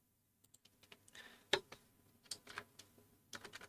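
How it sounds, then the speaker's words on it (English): Fingers type a short piece of text on a computer keyboard, making irregular bursts of sharp key clicks with one louder tap partway through. The clicks are close and alone, with no voices. "I'm going to enter a short piece of text."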